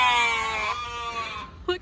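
Sheep bleating outdoors beside a parked new tractor as a storm approaches: one long, wavering, close bleat, followed by a brief snatch of a person talking.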